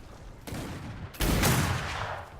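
PvP video game gunfire, two close bursts of shots, a short softer burst and then a louder, sustained volley that trails off, with no talking.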